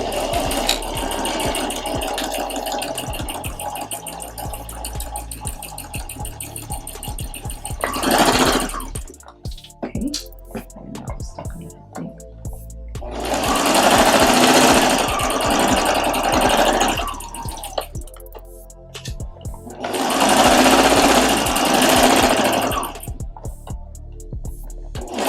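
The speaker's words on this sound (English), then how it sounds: "So heading back over to the sewing machine, we're going to go ahead and stitch 1/4 of an inch" A sewing machine stitches a quarter-inch seam on a fabric face mask in three loud bursts, the first long and the next two shorter, with quieter pauses of handling and mechanical clicks between them.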